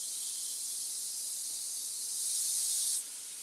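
Shrimp sizzle on a hot Nordic Ware double-sided griddle grill top, a steady close hiss that swells louder for a moment before settling back, with no talking.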